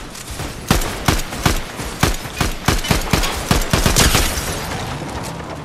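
Automatic gunfire in the video game Fortnite, with a dense run of loud, rapid shots at a fairly regular rhythm, close and punchy, without talk.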